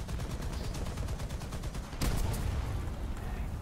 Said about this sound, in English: Well, there's machine gun fire for your face.